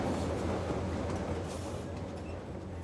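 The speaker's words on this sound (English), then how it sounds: "The train links Lima to Huancayo, in the heart of the Central Sierra." A passenger train on the line from Lima to Huancayo in Peru's Central Sierra rumbles along, a steady, loud, close rolling roar of wheels and carriages that barely changes.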